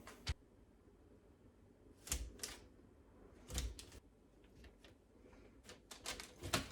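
Knife cutting into a hard Dollar Tree Halloween candle, heard as a few sharp, close clicks and scrapes spaced irregularly over a quiet background.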